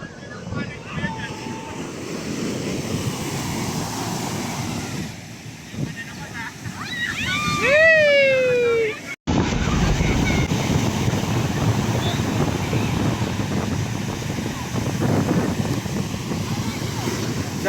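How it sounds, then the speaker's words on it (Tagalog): Strong sea waves roll and wash along the shore at Dingalan, Aurora, a broad rumbling surf mixed with heavy wind buffeting the microphone, with a brief voice and a sharp cut partway through. "Lakas ng alon."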